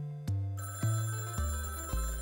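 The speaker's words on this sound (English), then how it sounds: "You should answer the phone, boss." An old-style telephone bell rings in the Hot Tin Roof game, four sharp, evenly spaced rings in quick succession, loud and close, with no voices.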